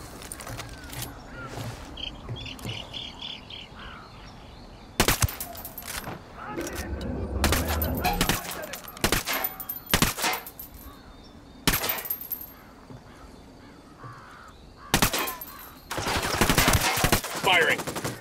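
Gunfire in the tactical shooter video game Ghost Recon Wildlands, with sharp bursts of rapid shots in several separate volleys over a game soundscape with birds, loud and close.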